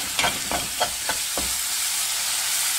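Spices with coriander and turmeric powder frying in a pan for a gravy, a spoon scraping in five regular strokes over a loud, steady sizzle that continues alone after the stirring stops.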